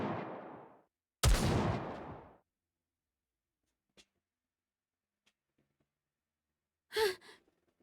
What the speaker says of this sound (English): Those gunshots.